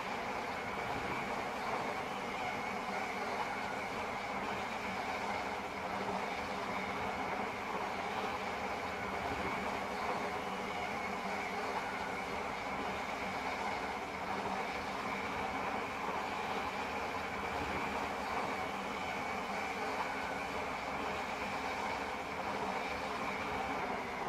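A train ride in the Transport Fever 2 and Roblox games, a steady rumbling, rolling drone that holds evenly throughout with no break, carrying a faint high whine and no talking over it.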